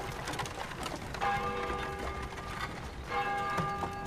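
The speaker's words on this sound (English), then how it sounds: "Still ring the curfew bell." An old town curfew bell tolls twice, each harmonic strike ringing out and decaying slowly, heard at a distance over a faint outdoor background with birds.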